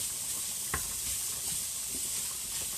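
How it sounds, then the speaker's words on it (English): Pork, carrots and other vegetables simmer in a stir fry, giving a steady soft sizzle and hiss with a faint stir or clink, no talking. "you got the veggies, the carrots are simmering and they're nice"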